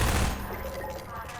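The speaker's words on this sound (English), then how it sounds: "Those were a good couple of shots." A few gunshots go off in the video game Half-Life 2: a loud burst at the start, then a softer rattling tail as the shots fade.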